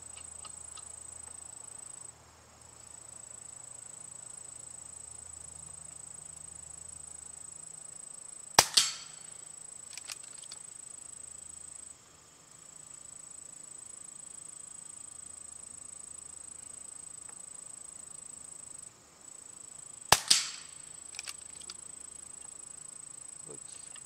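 Two pellet gun shots fired at a piece of pork tenderloin, the sharp cracks about eleven seconds apart, each followed by a quick impact, over a steady high insect-like outdoor hum.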